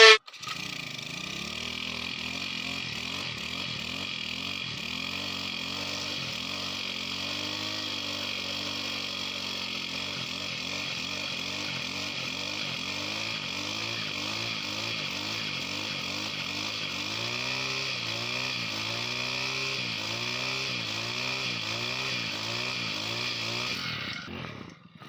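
A gas-powered grass cutter runs in a home yard, its small two-stroke engine droning loud and close, revving up and down in repeated rhythmic surges as it cuts grass for about twenty-five seconds.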